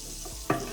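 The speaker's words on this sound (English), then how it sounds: "Into the pan, we're gonna go in with our onions, shallots, red onions, spring onions" Onions, shallots, red onions and spring onions hitting a hot pan with one sudden sizzling burst that settles into a steady, close fry, with no talk.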